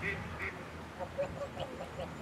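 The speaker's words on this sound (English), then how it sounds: "Those are the ducks" Several ducks quacking at a distance, short nasal calls scattered irregularly over a soft outdoor background.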